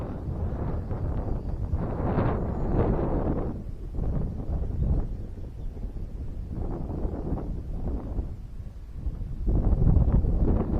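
Gusty wind buffets the microphone outdoors while an XK X520 flying wing flies, giving uneven swelling rumbles and rushes that rise and fall over several seconds and grow strongest near the end.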